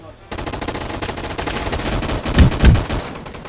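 Gunfire in a shooting video game: dense, continuous automatic fire rattles throughout, close and loud, with a couple of heavier booming impacts near the end.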